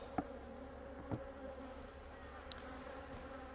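Honeybees at a hive box in an apiary give off a faint, steady, low droning hum, broken by a few soft taps and clicks, with no speech.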